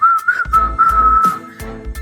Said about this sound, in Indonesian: Mendengar suara siulan